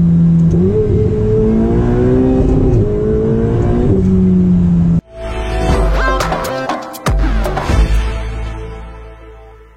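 Ferrari 488 Spider on the move, its engine droning steadily with rising and falling revs for about five seconds, then shifting to a broader, rougher roar with sharp bursts and brief drops, loud and close throughout.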